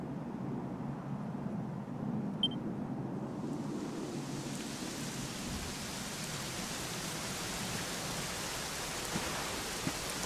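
Steady rain falls in a Dragon Quest XI scene, a soft continuous hiss of drops that stays faint and even throughout, with no voices.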